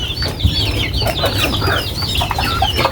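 Chicks and hens cluck and cheep continuously while being fed, with overlapping calls sounding close and fairly loud against a steady farmyard background.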